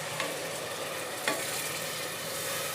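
Besan and spices for Rajasthani tadka kadhi fry and get stirred in a pan with browned onions, giving a steady close sizzle with a couple of sharp scraping clinks from the spoon. No voices.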